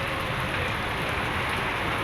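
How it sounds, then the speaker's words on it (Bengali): Heavy rain pours down in a dense, unbroken roar, loud and steady throughout, with no voices. "বৃষ্টি ঝুমঝুমিয়ে বৃষ্টি নেমে গেছে অলরেডি।"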